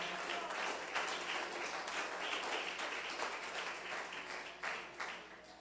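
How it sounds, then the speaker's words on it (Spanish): A church congregation applauds during a sermon, broad steady clapping from many hands filling the room at moderate level, with a few louder swells, no voices standing out. "Denle un aplauso al Señor con todo su corazón"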